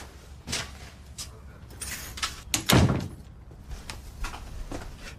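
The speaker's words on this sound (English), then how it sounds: "Close the door." An office door in a police station swings shut with a firm thud partway through, surrounded by soft rustling and shuffling movement, with no speech.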